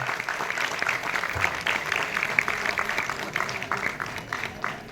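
Audience clapping fills a theatre hall during a Marathi stage play event at Dinanath Mangeshkar Natyagruha, a steady, dense patter of many hands held at moderate loudness for the whole stretch.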